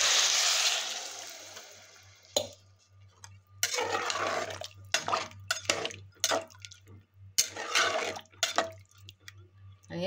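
Water poured into a pot of rice for veg biryani, a rushing splash at the start that fades, followed by intermittent clatters, drips and pot handling, close by.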